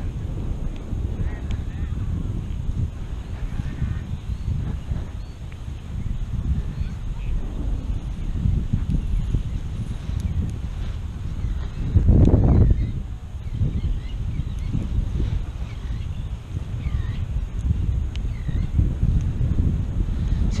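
Wind blows across Clearwater Beach during paragliding ground handling, producing a continuous low roar against the microphone that swells in a stronger gust about midway.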